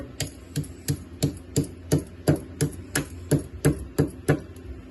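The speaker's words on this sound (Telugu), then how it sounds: "దాల్చిన చెక్క కొంచెం రోట్లో దంచేసి మిక్సీలో వేసేసి గ్రైండ్ చేద్దాం" Steady, rhythmic pounding of cinnamon in a stone mortar, about fourteen sharp thuds at an even pace, close by, with no voices.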